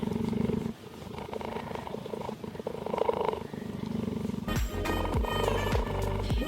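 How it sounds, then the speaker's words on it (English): A cheetah purring close up, a deep rumbling continuous purr that rises and grows louder and more rhythmic toward the end. "You gotta love that purr."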